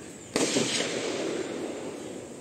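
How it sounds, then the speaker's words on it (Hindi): One sharp firecracker or gunfire bang in a hilly valley near a temple, followed by a long rolling echo and a steady broad rumble of outdoor noise. "जो आप लोगों को साउंड आ रहा है वो उधर से इधर से चल रही है फायरिंग का आवाज़"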